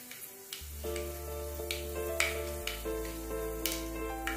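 Half a teaspoon of mustard seeds sizzles in two teaspoons of hot coconut oil while tempering a Kerala raw mango sambar, giving a soft, steady hiss with scattered sharp pops beneath louder, continuous background music. No one speaks.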